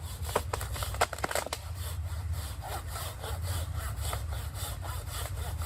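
A hand saw rasps back and forth through a downed tree log outdoors, a steady close sawing with a few sharper strokes early on and no talking.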